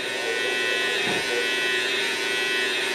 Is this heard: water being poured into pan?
no